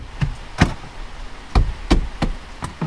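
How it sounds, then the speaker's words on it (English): Plastic rear door trim panel on a 2015+ Dodge Challenger is pressed back into place, giving about six sharp knocking pops at uneven intervals, close and fairly loud, with quiet handling noise between them. "Pop the door trim back into place."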